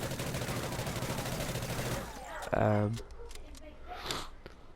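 Rapid automatic-weapon fire in the Call of Duty: Ghosts video game, a dense burst of shots for about two seconds before a few scattered clanks and a speaking voice.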